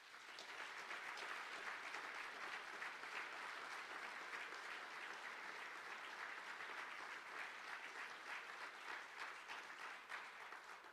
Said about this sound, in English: we might give them a round of applause